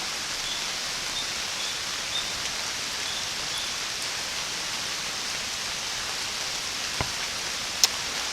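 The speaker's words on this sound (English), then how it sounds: "It's raining increasingly hard." Heavy rain pours down steadily outdoors during an archery hunt in a dense, even hiss, with an occasional louder drop or tap standing out.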